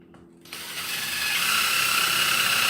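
A drill bit whirs up and steadily cuts a countersink into wooden barn door boards, starting after a brief quiet moment and holding a continuous grinding tone to the end.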